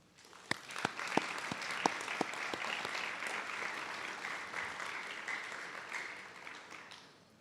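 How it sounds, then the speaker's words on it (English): An audience claps for families at a graduation celebration for anesthesiologist assistant students, beginning with a few sharp separate claps before settling into sustained, even applause that fades toward the end. "Another big round of applause for all of our families"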